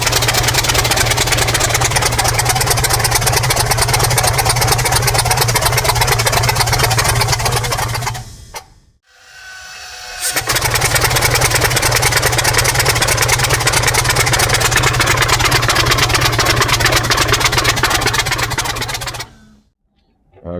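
A new engine in a T62 tank is cranked over, giving a loud, steady mechanical drone with a fast chugging pulse. It cuts out briefly, resumes, then stops abruptly near the end.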